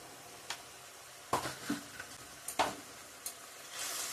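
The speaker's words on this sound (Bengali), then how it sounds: "ভালো করে কষিয়ে নিব সবগুলাই এখন" Ground turmeric, chili, coriander and cumin powders sizzle in a pan for paneer chana masala, a soft crackling hiss broken by a few sharp scrapes and clicks of stirring, close by with no voices.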